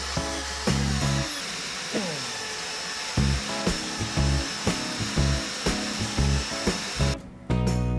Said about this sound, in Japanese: 1ミリ大きいドリルビットで、もう一度削ってみました